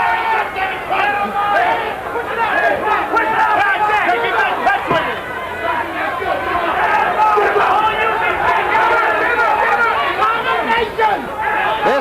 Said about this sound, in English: Crowd very supportive right now of Michael Spinks.